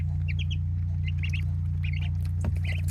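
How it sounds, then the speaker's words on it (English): Mallard and domestic ducklings peep and chirp in short high bursts over a steady low hum, with no talk. "Our domestic ducks are not that far removed from the wild mallard."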